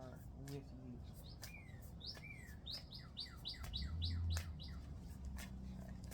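Birds chirp and tweet in a steady run of short, bright calls, some rising and some falling, fairly close and clear over a low background rumble.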